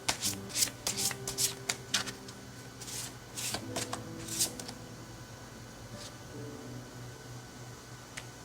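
Tarot cards being shuffled by hand in repeated quick riffling bursts, close and clear, with short pauses between shuffles against a faint background hum.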